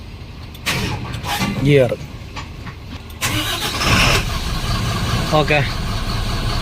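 A goods truck's diesel engine cranks and catches, then settles into a steady idle while air pressure builds. It sounds close and fairly loud, with people talking over it.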